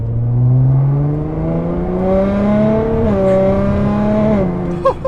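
A 2009 Nissan GT-R R35 accelerating hard, its loud close engine note climbing steadily in pitch through the gears with a brief shift dip, no talking over it.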